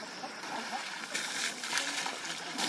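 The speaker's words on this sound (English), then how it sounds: "They are extremely fond of water and love to splash around at every opportunity." A herd of Asian elephants at a zoo splashes and sloshes in water in a steady, busy spatter with a few sharper slaps, heard at moderate distance.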